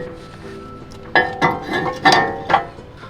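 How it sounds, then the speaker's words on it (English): Metal clinks and clanks as an old brake rotor is pulled off a Lexus GX hub and a new rotor slid on, four distinct ringing knocks in quick succession. "Now we're gonna go ahead and take our old rotor off and slide our new one right on."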